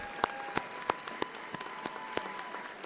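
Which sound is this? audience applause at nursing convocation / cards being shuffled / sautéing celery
audience applause at nursing convocation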